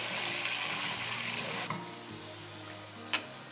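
Potatoes sizzling in hot oil for beef biryani, a steady crackling hiss close up, with a couple of brief clinks of a utensil.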